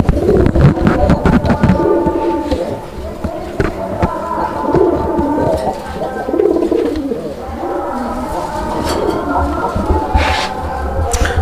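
Male pigeon of the deshi raj-golla breed cooing repeatedly at close range, throaty rolling coos over a busy background with other birds and voices talking.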